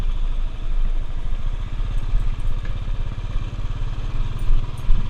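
Royal Enfield Classic 350 motorcycle from 2018, its steady engine throb rising and falling with the throttle while riding, continuous and fairly loud with some mechanical clatter and no talk over it.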